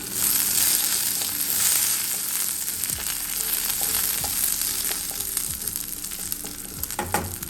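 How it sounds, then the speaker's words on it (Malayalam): Mustard seeds, chopped shallots and curry leaves frying in hot oil in a pan, a steady loud sizzle and crackle throughout, with a few spoon scrapes and a sharper clatter near the end. "ഞാൻ ഒരു പാൻ അടുപ്പത്ത് വെച്ച് കടുക് പൊട്ടിച്ചിട്ടുണ്ട്"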